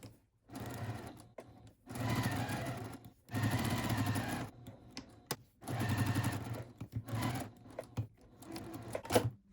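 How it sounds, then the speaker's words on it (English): A sewing machine stitches around all sides of a fabric bag pocket at a quarter-inch seam, running in several bursts of rapid mechanical whirring separated by short pauses, close up and fairly quiet. "we're going to sew all the way around all sides using a 1/4 inch seam allowance"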